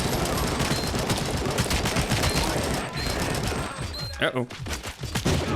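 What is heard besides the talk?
gunfire from a video game (Showgirls immersive sim)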